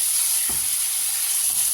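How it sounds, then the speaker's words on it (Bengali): Pointed gourd pieces fry in a pan with spices for doi potol, a steady oil sizzle and hiss running throughout, with two soft scraping stirs of a spoon against the pan. "দিয়ে একটু নাড়াচাড়া করে মিশিয়ে দেবো ভালো করে মশলাগুলো পটলের মধ্যে"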